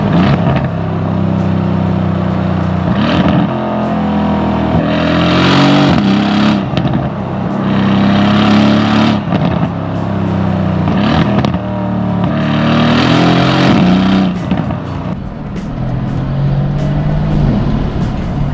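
A Mercedes-AMG C 63 S (W205) with its V8 engine revs loudly and close, rising and falling in several repeated surges with a deep, rumbling exhaust note and no talking.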